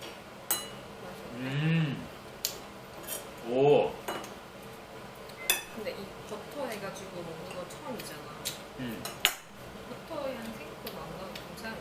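Light clinks and scrapes of a knife and cutlery against a ceramic plate while eating grilled lamb chops come in short bursts, mixed with quiet talking and soft laughter close by.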